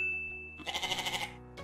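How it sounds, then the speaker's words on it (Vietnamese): A single quavering goat bleat with a rapid wobbling tremor follows a steady high tone in a children's English animal-vocabulary lesson, fairly faint and alone. "Và từ cuối cùng đó là con dê."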